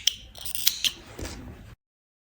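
Scissors snip through yarn during crochet work on a toy dragon: a few quick, close metallic cuts in a brief quiet moment.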